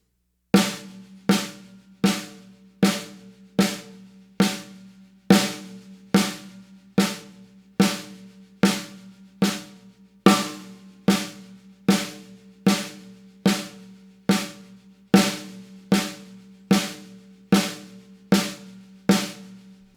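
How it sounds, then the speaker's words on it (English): Evenly spaced drum strokes on a single drum in a paradiddle-diddle sticking pattern (right, left, right, right, left, left), a steady stream of crisp hits with a ringing tone, played alone at a moderate, unbroken pace. "the Paradiddle Diddle pattern is right, left, right, right, left, left"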